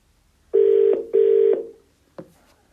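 Two long identical telephone tones sound loud and close after a dropped call, followed by a short click.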